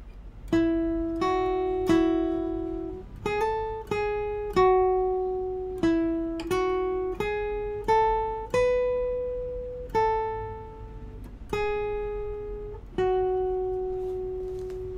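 A clean guitar picks the second intro part, one note at a time, each note ringing and decaying, with a slide between strings, in a moderate, unhurried rhythm, played alone and fairly quietly.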